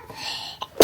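A single sharp, close sneeze bursts out at the end after a quiet indoor moment.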